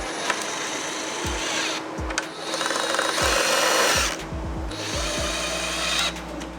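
A power drill drives self-tapping screws into a car's front lip splitter, with repeated whirring bursts that rise and stop, close and loud, and a rapid series of short pulses near the end.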